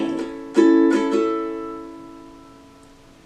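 Ukulele strumming a chord progression from a song, a few close, bright strums that ring out and decay before another strum starts at the end, with no talking.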